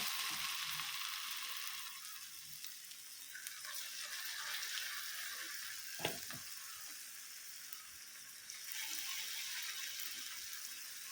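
Cauliflower pieces fry steadily in hot oil, a continuous bright sizzle throughout with a brief clatter near the middle; no one speaks.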